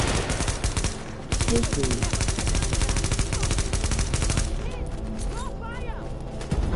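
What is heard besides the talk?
gunfire in the video game The Division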